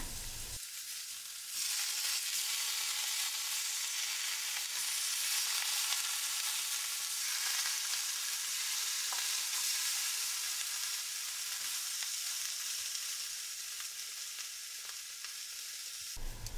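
Halloumi cheese fries in a pan over a gas flame, giving a steady, even sizzle that carries on for about fifteen seconds with no voices.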